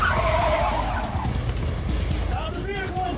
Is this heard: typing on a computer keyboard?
no